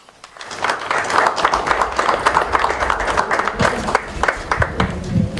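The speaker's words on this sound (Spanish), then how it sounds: "Lo recibimos con fuertes aplausos." Crowd at the inauguration of an institute in Guatemala breaks into loud applause to welcome a speaker, dense clapping that swells quickly after a brief quiet start and stays strong and close throughout.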